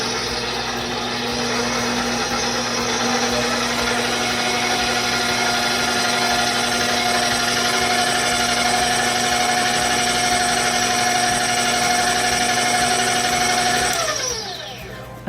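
Stand mixer with a paddle attachment mixing hot dog bun dough, a loud, steady motor whine with a mechanical hum that runs about fourteen seconds and then winds down, close and alone.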